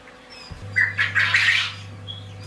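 Newly hatched chicks give a few clear, high chirps over about a second, close by, with a steady low hum running underneath and a faint call or two afterward.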